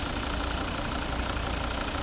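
A 2013 Volvo V60 R-Design with a two-litre D3 five-cylinder diesel engine idling, a steady, even clattering hum heard up close with no voices over it.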